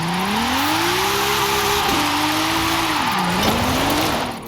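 A 1955 Mercedes-Benz 300 SLR, tuned for all-wheel-drive drifting in Forza Horizon 5, holds a loud, steady engine drone whose pitch climbs, dips at a gear change, and climbs again, with tire squeal mixed in.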